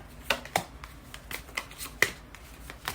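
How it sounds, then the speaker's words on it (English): Manifesting oracle cards being shuffled and pulled by hand, a quiet series of soft papery riffles and sharp card snaps spaced irregularly over a few seconds, close up with no talking. "I am going to pull 3 of these manifesting oracle cards."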